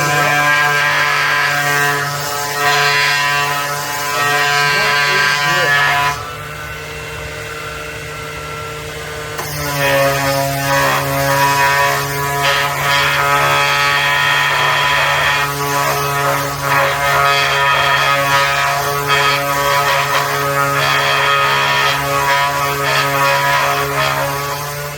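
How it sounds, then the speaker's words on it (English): A 5-inch random orbital sander works a wooden Shaker-style cabinet door piece, a loud steady motor whine with a short quieter pause before it runs on evenly. "I just take my 5-inch random orbital sander and I go get it up"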